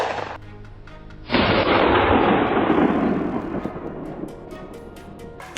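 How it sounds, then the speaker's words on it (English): Gunfire during a wild boar hunt on farmland: a loud close shot bursts out and rolls into a long echoing decay, followed by a few faint distant cracks. "gunshots immediately rang out"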